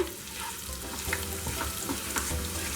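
Masala-coated baby potatoes roast in a pan on a low flame, giving a close, steady sizzle broken by light stirring scrapes.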